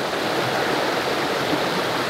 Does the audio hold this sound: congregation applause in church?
no